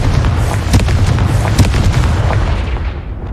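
A Confringo spell in Hogwarts Legacy bursts in loud, dense explosive booms, a rapid series of blasts rolling together over a few seconds before tailing off, with no voices.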